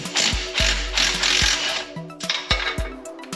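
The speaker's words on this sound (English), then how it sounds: "using a 24mm socket, let's get the bolt off" Ratchet with a 24mm socket removing a ball joint nut on a Ford Mustang, giving sharp, close, repeated clicks in an uneven rhythm over a faint hiss.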